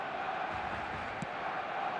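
Stadium crowd noise from the football game eFootball, a steady broad roar of a large crowd holding level throughout, with no distinct cheers or chants standing out.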